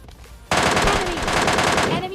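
Rapid automatic rifle fire from M4 and MK weapons in the mobile shooter PUBG Mobile Lite, a loud continuous burst that starts abruptly after a short quiet lead-in and runs to the end.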